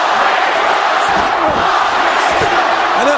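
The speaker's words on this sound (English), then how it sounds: "And this crowd letting the Rattlesnake know that Austin sucks in their view." A wrestling arena crowd jeers Stone Cold Steve Austin at a tag team match, a dense, loud, continuous roar of booing voices filling the space with no clear pauses.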